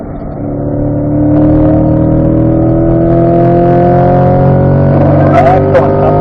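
A Chevrolet Corvette accelerating hard out of a corner on the Spring Mountain race track, a loud, close, steadily rising engine roar heard from inside the car, with no voices.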